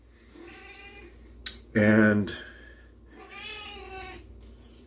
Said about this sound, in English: this cat is in heat.